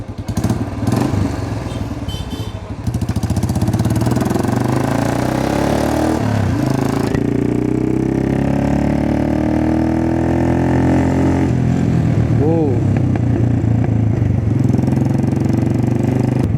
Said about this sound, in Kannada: ಇದು ಸ್ಟಾಕ್ ಎಕ್ಸಾಸ್ಟ್ ಅಲ್ಲ, ಇದು ಮೋಟೋ ಟಾರ್ಕ್ ರೆಪ್ಲಿಕಾ.